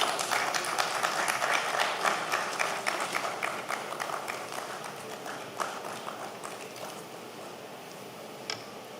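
Conference audience applauding at a design conclave stage ceremony, a dense, steady wash of many hands clapping that carries on for the whole stretch and slowly tapers, with a few sharper claps near the end.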